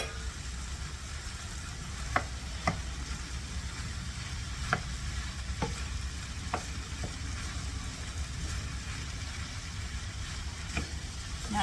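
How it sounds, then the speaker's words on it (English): Ground beef sizzling and frying in a pan with softened vegetables, a steady close hiss broken by a few sharp stirring clinks, with no talking. "Now you're going to add the meat, all this beef,"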